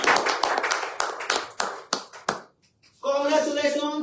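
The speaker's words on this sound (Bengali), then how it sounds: "সো তার জন্য হবে একটা করতালি।" Applause for a contest winner, a burst of hand claps in a live group setting that trails off into a brief pause before a sustained musical tone takes over.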